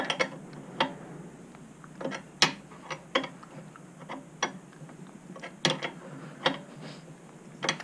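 A wrench ratcheting while tightening the stiff nut on a BSA A70L motorcycle mainstand, a run of sharp metallic clicks at an uneven pace, close up in a quiet room.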